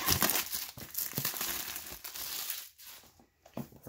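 Plastic wrap being peeled and crumpled off the box of a Google Nest Mini smart speaker, close crinkling and rustling in irregular bursts that fade into near silence before a last short crackle.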